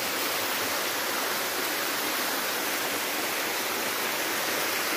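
A waterfall and cascade on a river at Goiabol, Bom Jardim pours in a constant, loud, broadband rush of water with no pauses or voices.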